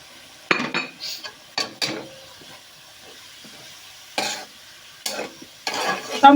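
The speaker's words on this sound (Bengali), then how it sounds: "এখন আমি মশলাগুলো দিয়ে দিব" Ground spices going into a hot pan with potatoes, stirred through in short scraping bursts separated by pauses, with a light sizzle underneath; close and fairly clear, no talking.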